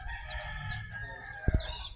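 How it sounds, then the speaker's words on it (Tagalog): Free-range three-month-old chickens clucking in a group, a low murmuring flock with a couple of sharp louder clucks near the end. "Ito naman yung mga manok na 3 months. Ayan sila, grupo."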